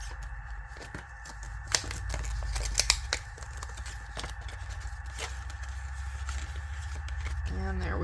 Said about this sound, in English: we just cut a slice of cardstock there